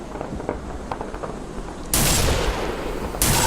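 Pistol gunfire in the video game Operation Red Dragon: after faint scattered pops, a loud sustained burst of shots erupts close and fills the rest, with a second sharp onset near the end.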